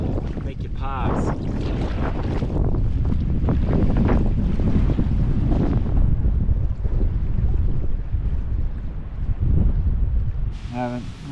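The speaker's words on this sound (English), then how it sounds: "Some of these gusts can just" Strong wind gusts buffeting the microphone on the Missouri River, a loud continuous roar with surging swells and low rumble, ending with a brief higher whistling tone.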